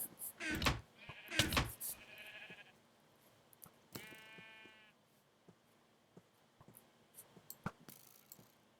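Sheep in Minecraft bleat several times in close, loud, wavering calls, separated by quiet gaps with scattered small clicks and taps.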